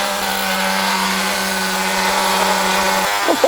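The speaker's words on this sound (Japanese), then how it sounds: "じゃあもうエンジンかけますね。" A small engine on a radio-controlled car with an E-POWER hybrid setup runs with a steady, buzzing drone, then ends abruptly near the close.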